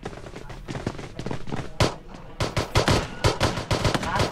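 Gunfire in the battle royale video game PUBG: sharp shots ring out close and loud, first sporadic and then in rapid bursts, with a few quieter background sounds in between.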